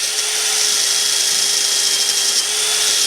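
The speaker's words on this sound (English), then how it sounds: "I'm just going to give this a clean up with a wire brush" Motorised wire brush scrubbing the front brake caliper carrier of a mk1 Audi TT, a loud continuous high-pitched whirring grind held steady throughout, close up and alone.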